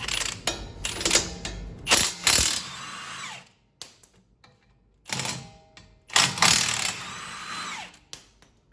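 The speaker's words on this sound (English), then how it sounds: "Now remove the two bolts to the strut," Power tool ratcheting out the strut bolts on a Mustang's front suspension during a control arm job: loud bursts of rapid mechanical whirring and clicking, two separate runs with a quiet pause between, no talking.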